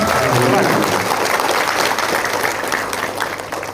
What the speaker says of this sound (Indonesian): Boleh tepuk tangan buat Bung Hatta.